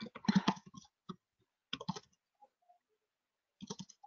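Keys clatter on a computer keyboard during a Linux shell tutorial, coming in fast close bursts with short pauses between them, and no talking.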